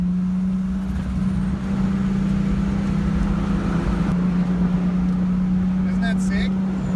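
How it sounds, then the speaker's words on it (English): A Lexus IS300 drift car drives on the Circuit of the Americas racetrack, its engine holding a loud, steady drone heard from inside the car, with faint speech over it. "they let us drive on the Circuit of the Americas racetrack"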